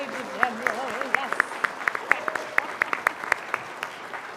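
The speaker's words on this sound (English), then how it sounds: "And keep the applause going for David Kunchar, the pianist." Concert audience at a Pirates of Penzance performance claps steadily at curtain call, a dense wash of applause with sharp individual claps, while voices talk and whoop over it.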